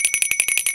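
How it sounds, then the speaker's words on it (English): Small handheld bell rung rapidly, about nine bright metallic rings in under a second in a quick even trill, close and loud with no voices. "This is called the jargon bell."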